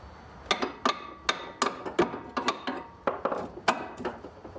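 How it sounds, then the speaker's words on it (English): A series of sharp metallic taps, about a dozen quick hammer strikes at an uneven rhythm, fairly close, hammering on the suspension of a Nissan 240SX. "I want to tap up on it with a hammer."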